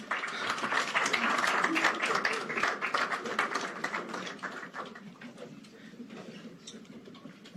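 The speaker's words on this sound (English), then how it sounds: "One more round of applause." An audience at a UN General Assembly sideline event gives a round of applause: dense, sustained clapping from a crowd that fills the whole stretch and slowly thins toward the end.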